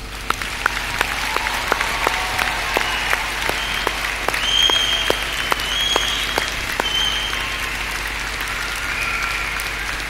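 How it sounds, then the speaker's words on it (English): A graduation congregation audience in a business school auditorium gives a long, sustained round of applause, a dense, even wash of clapping with sharper individual claps standing out close by, lasting throughout. "let everyone else in the auditorium give you one last enormous round of applause"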